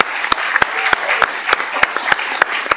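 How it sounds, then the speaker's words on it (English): Hands clap in brief applause for student senators at a campus meeting, with sharp, irregular individual claps standing out over a thin patter. "Let's give our 2 Senator of the Weeks a round of applause."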